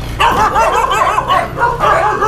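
A dog at a run-down rural family home barks and yips excitedly at visitors in a rapid series of loud, close, harmonic barks with a short whimpering edge.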